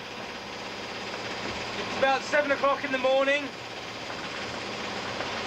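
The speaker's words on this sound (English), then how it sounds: "that noise you can hear is the engine." A steady low sailboat engine drone, running to charge batteries during an ocean race, continues throughout, with a person speaking briefly over it partway through.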